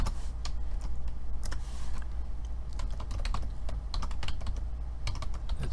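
Rapid clicking of typing on a computer keyboard, steady and close, with irregular bursts of keystrokes throughout and no talking.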